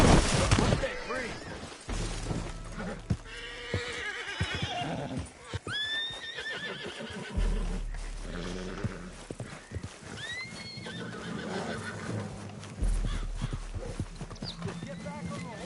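Horses neigh and whinny several times over steady clip-clopping hooves, with brief bursts of heavy low tones and gunfire-like crashes in a dramatic scene, while voices talk throughout.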